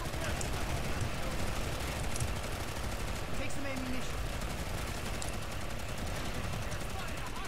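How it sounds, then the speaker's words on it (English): Rapid, dense heavy assault rifle fire in the shooter game Planetside 2 rattles on continuously, with other battlefield gunfire mixed in and a voice talking underneath. "I'm shooting him with a heavy assault rifle"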